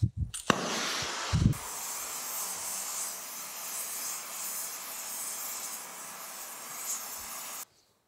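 A gas torch heats a steel shaft seized in a sugar cane mill casting, a steady loud hissing roar that holds for several seconds after brief clatter and a short ignition pop, then cuts off abruptly.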